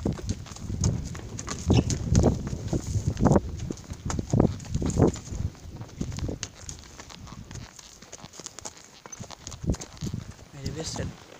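A horse carries a rider on a stable yard, hooves clip-clopping in a steady walking rhythm close by, with people talking in Italian over and between the hoofbeats.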